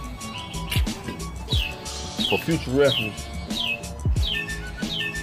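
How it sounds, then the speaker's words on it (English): A bird chirping loudly outdoors near a car engine swap, repeated sharp tweets and calls over a man's speech. "damn bird loud as hell"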